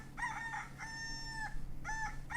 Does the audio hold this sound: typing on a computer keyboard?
no